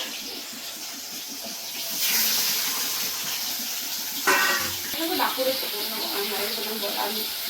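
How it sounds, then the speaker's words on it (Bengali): Rohu fish belly pieces fry on a clay village stove, a steady hiss of oil that swells into a louder sizzle, with occasional clinks and a person talking over it. "চলছে পেটি ভাজা।"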